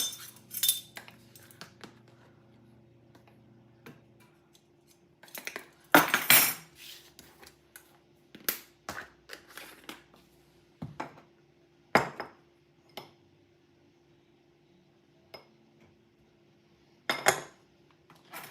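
Breadcrumbs, grated Parmesan, garlic powder and pepper being stirred together in a container, heard as sporadic close clinks and scrapes of a utensil with quiet gaps between them.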